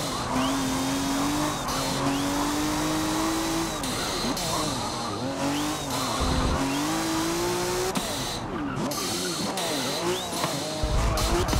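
A video game race car engine drones loudly throughout with rising pitch sweeps, broken by sharp tire squeals, while a voice talks over it.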